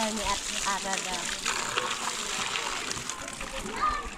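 Water splashing and sloshing continuously as people bathe outdoors in a rural Thai setting, steady and fairly loud, with voices mixed in.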